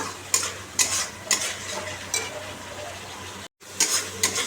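Fish fries in spice paste made from cumin, coriander and onion in a pan, a steady sizzle punctuated by regular scraping stirs and light clinks of a spatula, close and moderately loud.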